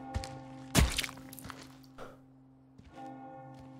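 A church-style bell in Resident Evil 4 rings with one heavy struck peak and a sustained tonal hum, followed by softer thuds and a second fainter bell tone, fairly close and without speech.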